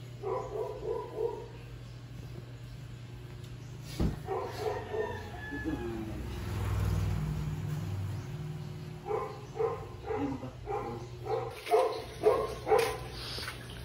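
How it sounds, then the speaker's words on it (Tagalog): A dog barks in several clustered bursts, with pauses between volleys, over a steady low hum; one bout of louder barking comes near the end. "Ingay ng aso"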